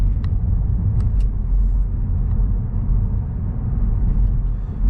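A 4th-gen Mazda3 fitted with a CorkSport axleback exhaust accelerates, a steady low engine and exhaust drone heard from inside the car with no talk.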